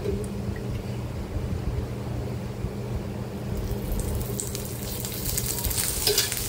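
Green chillies, garlic and ginger frying in a splash of oil for a val bean dish, a steady low sizzle that grows brighter and louder toward the end as the oil heats, close up.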